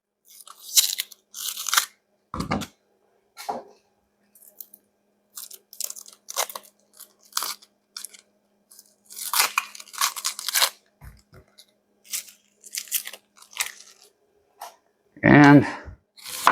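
A knife cuts an onion into chunks on a board for a fish curry, giving a series of irregular close crunching chops, with a voice talking in between.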